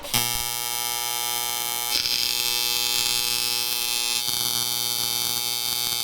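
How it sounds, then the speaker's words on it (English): A welder works on the inside of the sheet metal of a 1976 AMC Pacer, making a continuous, close, buzzing hum that shifts slightly in tone twice without stopping. "And we gotta weld the inside."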